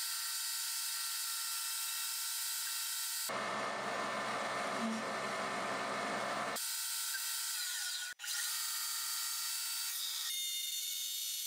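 A Bridgeport milling machine cutting a part, with a steady high mechanical whine and a rougher, louder grinding stretch in the middle, continuous and close with no talk.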